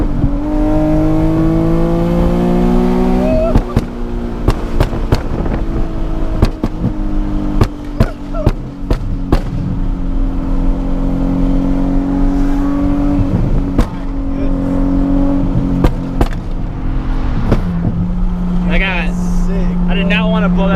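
A loud Nissan 370Z heard from inside while driving, its engine droning and shifting pitch as it revs and eases off, with repeated sharp exhaust pops and crackles scattered throughout.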